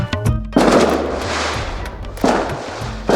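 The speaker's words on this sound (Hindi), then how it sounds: "बड़े बड़े पटाखे जलाता है" Big Diwali firecrackers burst at night in a village, with two loud, sharp blasts about two seconds apart, each followed by a crackling, fading rumble.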